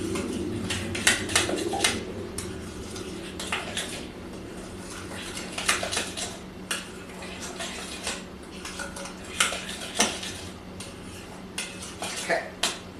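Utensil clinking and scraping against a bowl while ingredients seasoned with ground pepper are mixed by hand, a loose series of close clatters and taps, with faint bird cooing in the background.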